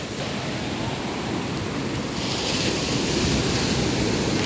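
Caribbean surf washes steadily onto the shore at Puerto Viejo, Costa Rica, a close, continuous rush of breaking waves mixed with wind buffeting the microphone, swelling slightly louder halfway through.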